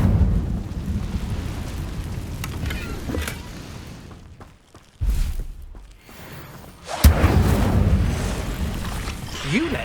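An Incendio fire spell in Hogwarts Legacy, a deep rumbling, roaring whoosh of flames that swells, drops away briefly, then bursts loudly again with crackling, with a voice speaking in between.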